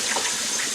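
Water gushes steadily as it is emptied from a pot of soaking beans, a loud, continuous splashing pour that lasts under a second with no voices.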